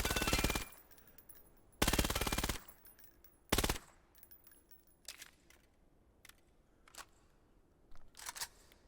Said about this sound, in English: Submachine gun.